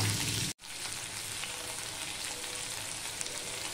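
Potatoes fry with tempering spices in a hot pan, a dense continuous sizzle that cuts out briefly near the start and then resumes loud and even, with no talking.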